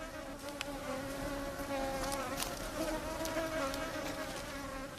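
Mosquitoes hum and whine in a dense, continuous swarm at a desert oasis in the Libyan Sahara, a close, steady buzzing drone with no voices.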